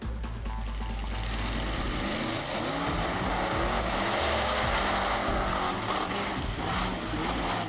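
A Mud Runner 4WD, a Toyota body on a Nissan GQ long-wheelbase chassis with a mid-mounted 351 Cleveland V8 and C10 automatic, rumbles loudly and steadily close by, its deep engine note revving slightly without any talk.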